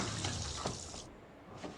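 In the video game Two Point Hospital, a janitor waters plants: a short splashing pour of water, moderately close, fading briefly before another quick trickle.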